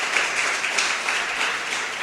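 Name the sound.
congregation applauding for Jesus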